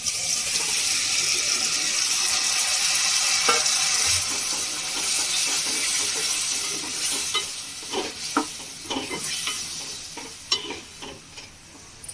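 Chopped tomatoes and chili powder sizzle in a pan for a curry, a constant hiss joined by scraping and clattering spatula strokes that grow more frequent toward the end.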